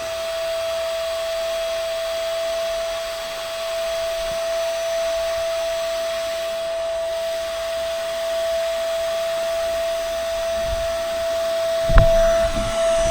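AIRBANK rechargeable electric SUP air pump inflating a packraft's low-pressure tubes, running as a steady loud whir with a constant high tone throughout, ending with a brief clunk near the end.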